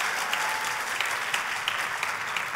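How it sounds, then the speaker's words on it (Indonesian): A church congregation applauds in dense, sustained clapping, steady and fairly close, with no speech over it. "Tepuk tangannya buat Yesus yang paling hebat."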